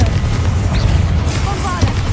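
Confringo blasting spell going off in the Hogwarts Legacy video game, a loud booming burst with a deep rumble and crackling fiery hiss filling the whole moment.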